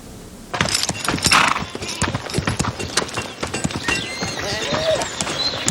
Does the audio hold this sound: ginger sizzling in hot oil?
no